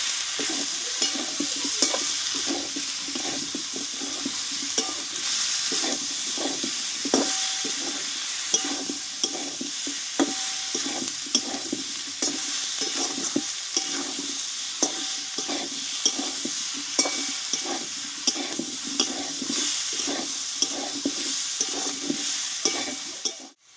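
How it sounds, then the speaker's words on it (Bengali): Boiled green jackfruit is tipped into a pan and sautéed and stirred with fried potatoes. A steady sizzle of frying runs throughout, with a spatula scraping the pan in a regular rhythm, close and loud, and no one speaking. "এবার এখানে সেদ্ধ করে রাখা কাঁঠালটাকে ঢেলে দেবো আমি একসঙ্গে ভালোভাবে কষিয়ে নেবো"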